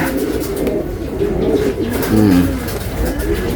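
Racing pigeons cooing at a loft during a semi-final race from Calbayog, a steady murmur of soft low coos from several birds close by, with a brief louder burst of cooing partway through.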